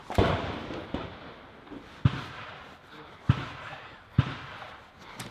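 Rifle shots at an NRL22 match hitting steel targets, a series of several sharp, distant cracks with faint ringing, spaced about a second apart against outdoor background noise.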